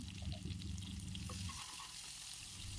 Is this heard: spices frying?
yes